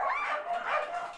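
White Samoyed dogs bark and yip excitedly at feeding time at a pet show, with a few quick, high, close barks and whines in a row.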